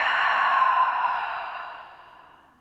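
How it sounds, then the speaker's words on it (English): A single long exhale through the mouth, a soft breathy rush that starts fairly strong and slowly tapers off over a couple of seconds, alone and close, as a relaxation breath at the start of a restorative yoga session. "let's just start with an exhale through the mouth"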